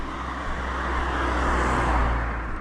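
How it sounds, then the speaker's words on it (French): A small car passes by on a road, its engine and tire roar rising to a peak and then fading over a few seconds, heard from the roadside. "On va laisser passer la petite voiture"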